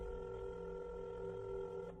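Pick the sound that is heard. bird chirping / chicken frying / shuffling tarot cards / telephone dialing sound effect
telephone dialing sound effect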